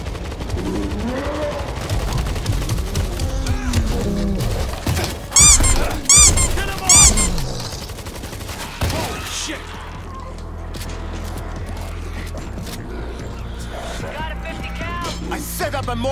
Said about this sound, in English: Auto turret live! Let's keep it loaded!